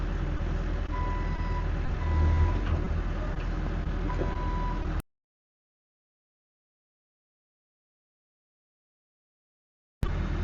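An excavator reverses down truck ramps, its steady reversing beeps sounding over a low engine rumble for about five seconds before the sound drops to silence, then returns briefly at the end.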